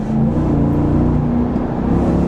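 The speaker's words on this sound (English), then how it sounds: "let's turn down onto this back road here and see how it accelerates" A 2024 GMC Sierra 1500 Denali Ultimate's 6.2-liter naturally aspirated V8 hums steadily and loudly from inside the truck on a back road, a low droning rumble with a slight rise in pitch as it pulls.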